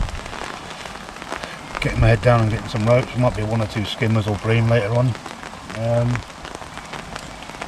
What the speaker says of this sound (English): it's going to rain pretty much all day